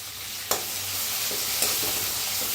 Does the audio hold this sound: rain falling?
no